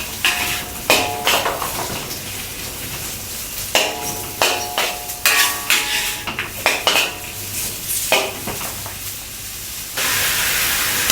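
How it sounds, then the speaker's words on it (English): King oyster mushrooms stir-frying in a pan, with a steady hiss and repeated close clinks and scrapes of a utensil against the pan in irregular bursts. "Next, add the king oyster mushroom, which take longer to cook, which is tougher than the button and portobello."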